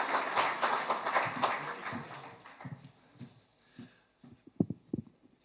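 Dense audience applause at an awards ceremony fades after a few seconds into scattered, isolated claps, with faint voices in the room.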